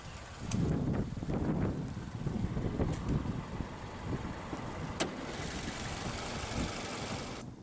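2005 Toyota Corolla LE with its 1ZZ-FE 1.8-liter naturally aspirated inline-4, engine running with a steady low hum, rougher and louder at first then settling into an even idle, with wind noise on the microphone.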